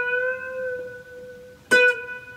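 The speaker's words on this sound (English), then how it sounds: "my reverb is pretty high right now" Three-string cigar box guitar with heavy reverb: a sustained chord rings and slowly decays, then a sharp new pluck strikes near the end and its tones ring on, smooth and close.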